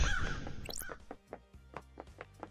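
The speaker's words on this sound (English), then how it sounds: "Oh my fucking god, with these birds." Crows cawing in the video game Paradise Killer, a quick series of loud, harsh caws repeating in a steady rhythm, close and clear with no talking.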